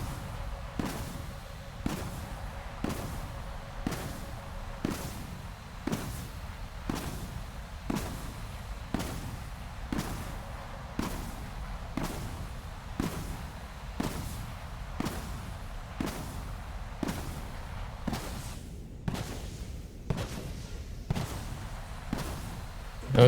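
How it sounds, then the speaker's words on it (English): Repeated booming blasts from missiles in a military combat video game, about twenty heavy thuds at a steady rhythm of roughly one per second, loud and close against a continuous low rumble. "That's a missile."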